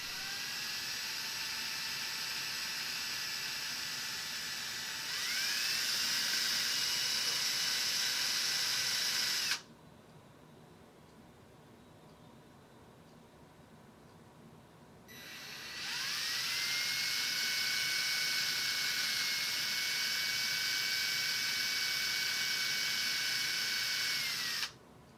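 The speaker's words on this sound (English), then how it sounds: "I'm going to drill the eye sockets." A small high-pitched power drill whines steadily in two long runs, revving up each time, drilling eye sockets into a wooden shark wake bait, separated by a quiet pause.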